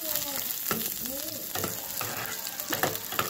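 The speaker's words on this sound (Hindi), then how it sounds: "अब इसमें हम डालेंगे थोड़ा सा जीरा, दो सूखी मिर्च साबुत, कटी वाली प्याज, इसको हल्का सा भूनेंगे बिल्कुल" Steady sizzling of cumin, whole dried red chilies and chopped onion frying in a pan, with occasional stirring scrapes and bursts of crackle throughout.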